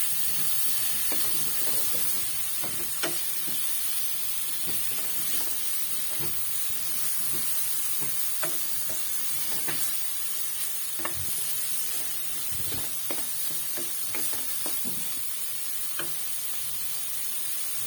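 Shrimp and ground meat sautéing in a pan for adobong sitaw, a steady close sizzle with scattered light pops and stirring scrapes throughout, with no talking.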